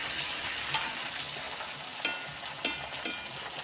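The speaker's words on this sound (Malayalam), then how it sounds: "ഈ രീതിയിൽ ഒന്ന് പൊരിച്ചെടുത്താൽ മതി" Chicken roast pieces frying in a pan, a steady close sizzle with occasional clicks and scrapes as the pieces are stirred.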